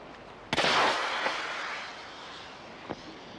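A maroon distress rocket goes off outdoors with a sudden sharp bang and a whooshing roar that fades over a couple of seconds, followed by a couple of fainter distant cracks.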